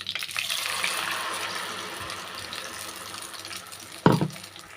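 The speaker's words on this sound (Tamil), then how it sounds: "அந்த மிக்சி சாரை கழுவி கொஞ்சமாக தண்ணியும் சேர்த்துக்கலாம்" Water pours steadily into a mixer grinder jar in a rushing, splashing stream, tapering off before a short louder splash near the end.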